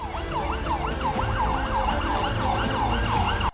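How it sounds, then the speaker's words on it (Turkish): Many police sirens wail together at once as a large convoy of security vehicles sets off from Atatürk Airport, a loud, dense, overlapping rising-and-falling sweep that runs continuously throughout. "Binlerce araç aynı anda sirenlerini çalmaya başladı ve Atatürk Havalimanı'ndan görev yerlerine doğru yola çıktı"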